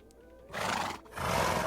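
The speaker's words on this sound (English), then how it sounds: "Now we have the horses." Minecraft horses from a resource pack give two short, loud whinnying neighs in quick succession, each a bright breathy burst.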